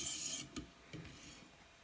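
A kitchen knife is drawn across a whetstone with light, unpressured strokes, giving a quiet, close, gritty scrape that fades after half a second, followed by a couple of soft scuffs.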